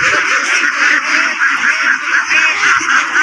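Ducks at a crowded poultry market selling ducks and broiler, sonali and layer chickens, a dense, continuous chorus of loud nasal quacking from many birds close by.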